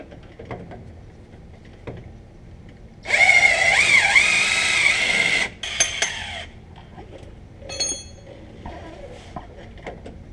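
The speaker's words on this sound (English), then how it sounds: "Let me grab that electric impact." A loud electric impact wrench on a Ford F750 truck whirs in one sustained burst of about two seconds, followed by shorter metallic clanks and rattles against a quiet shop background.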